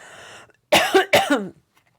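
Two sharp coughs in quick succession, close and clear, after a brief faint hum.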